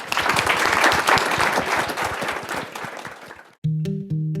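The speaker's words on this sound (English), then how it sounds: "let's give a big round of applause to our panelists" Audience applause for panelists at a live recording at a coastal adaptation summit, dense steady clapping for about three and a half seconds that fades, followed by a brief musical tone.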